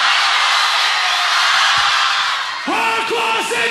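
A large crowd at a live concert roars and shouts continuously in a loud, echoing space, with a few voices rising into a chant near the end.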